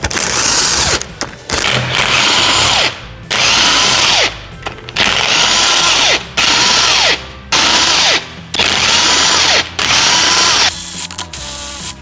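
An impact wrench rattles at a bolt during the teardown of a 6.0 LS engine with a big cam. Loud, close bursts of hammering buzz, each about a second long, are separated by short pauses.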